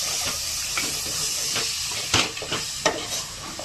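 Ground tomato paste goes into frying masala and gets stirred, bringing a hissing, steaming sizzle with several sharp scraping strokes of a spoon against the pan toward the end.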